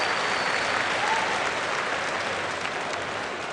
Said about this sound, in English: give our contestants a round of applause